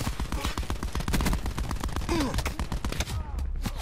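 Rapid gunfire in the Call of Duty Black Ops 4 video game, dense bursts of automatic shots close and loud, with a short groan-like voice cutting in among the shots.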